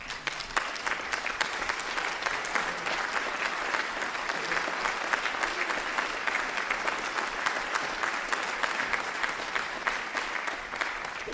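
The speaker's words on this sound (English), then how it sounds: "let's give a big round of applause to our composer" At a brass band festival, a large audience claps steadily and evenly for the whole stretch, a dense, sustained wash of applause for a composer, without cheering or voices.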